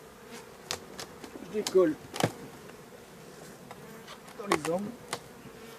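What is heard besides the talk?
honeybees buzzing around hive frames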